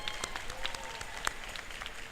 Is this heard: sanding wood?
no